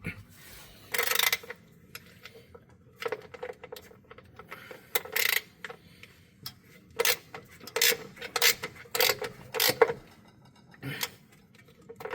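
A bolt on a Vride XL drive tensioner being tightened, heard as close metallic clicks and ratcheting bursts in irregular clusters separated by quiet gaps, with no one speaking.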